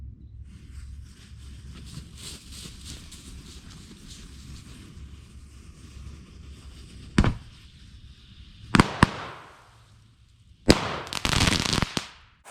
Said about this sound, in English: It's a good fireworks show,